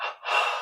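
A single soft, breathy inhalation through the nose and mouth during a neck exercise with the head lowered, close and quiet, lasting under a second.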